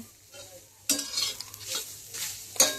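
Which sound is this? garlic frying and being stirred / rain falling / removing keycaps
garlic frying and being stirred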